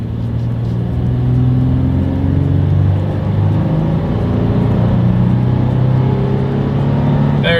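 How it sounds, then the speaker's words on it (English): 2022 Toyota 4Runner accelerating onto a highway, steady loud engine drone with a low rumble building as speed climbs, heard from inside the cabin. "let's see how quickly we can get our new 2022 Toyota 4Runner here up to speed"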